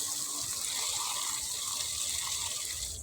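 Water gushes steadily from a hose or tap while plants are watered outdoors in hot weather, a continuous broadband splashing rush with no talk.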